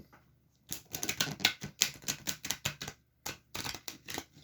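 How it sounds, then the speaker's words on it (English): Rapid crisp clicking and riffling of a hard-to-shuffle deck of oracle cards being shuffled, in quick uneven bursts with a short pause, close and alone. "This is a difficult deck to shuffle."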